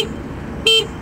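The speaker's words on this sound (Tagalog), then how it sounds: "Pakinggan natin yung busina ng dalawa. Ito yung busina ni Fortress." A Fortress 160 motor scooter sounds its horn in one short, bright electric beep that stands out over steady outdoor background hum.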